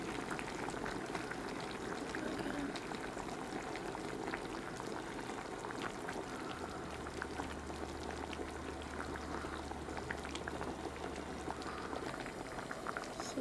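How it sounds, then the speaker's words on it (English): Spicy braised mackerel boiling in a pot, a steady dense bubbling and popping that runs unbroken throughout, loud and close with no talking. "just boil a lot longer"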